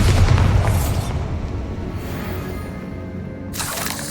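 A Bombarda spell blast in Hogwarts Legacy, a loud booming explosion with crackling debris that decays over about three seconds, followed by a second burst near the end.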